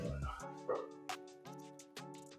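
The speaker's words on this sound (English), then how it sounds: "as my dog loses it." A pet dog indoors barks and yips in several sharp bursts with whiny tones between them, close and fairly loud, while a person speaks over the start of the outburst.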